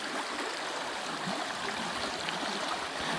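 Rushing water of a shallow, low-running stream, a steady close hiss and babble of flowing water, continuous and fairly loud with no voices.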